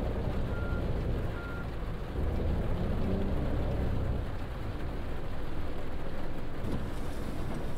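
Steady rain falls in the dynamic weather of Fernbus Simulator, a dense, continuous hiss heard from inside the coach, layered over a low engine rumble, with no talking.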